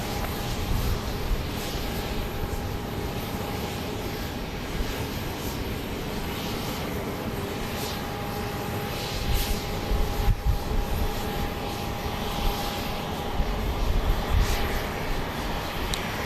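An Epic E1000 turboprop passes overhead at night at Dallas Love Field, a steady broad engine roar with a faint whine that holds level throughout, without voices.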